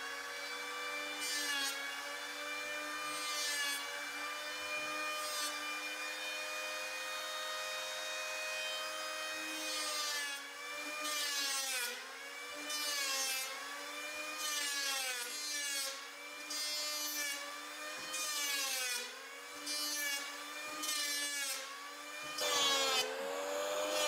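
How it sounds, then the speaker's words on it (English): Handheld power plane shaving down a wooden boat's stem and keel, its high whining motor running steadily throughout with repeated bursts of louder cutting as the blade bites into the wood, close by with no talk. "So I'm going to try to get the bulk of it off with my power plane"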